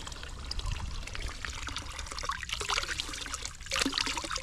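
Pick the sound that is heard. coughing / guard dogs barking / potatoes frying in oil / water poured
water poured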